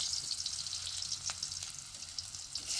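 Eggplant chops frying in hot oil in a pan, a steady bright hiss and crackle of sizzling that fills the whole moment, close and fairly quiet, with no talking.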